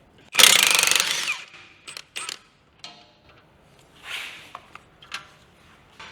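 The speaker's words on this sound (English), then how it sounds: "Now it's time to remove this lower shock bolt." Socket wrench working the lower shock bolt on a BMW F30 suspension, with a loud burst of close ratcheting followed by scattered short clicks and metallic clanks, and no voice.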